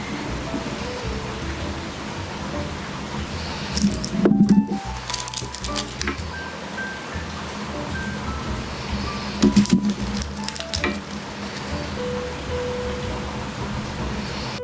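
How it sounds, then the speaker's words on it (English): Soft, steady rain patters in the background, with a couple of brief louder rustling bursts partway through. "it's a beautiful, gentle spring rain that you hear in the background"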